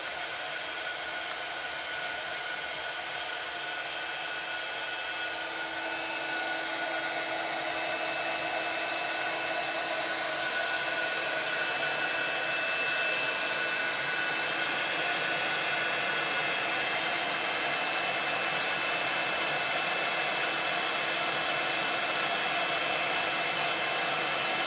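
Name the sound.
heat gun blowing hot air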